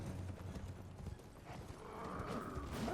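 A horse gallops in the video game Elden Ring, its rhythmic clip-clop hoofbeats fairly faint and continuous, with a brief mechanical clank near the end.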